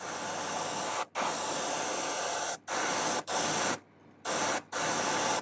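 Airbrush spraying paint onto a handmade fishing lure from a distance in short hissing bursts, several separate sprays broken by brief pauses, close and fairly loud.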